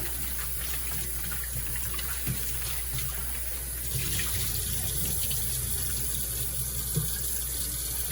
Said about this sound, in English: I'm gonna rinse it one more time in some cold water.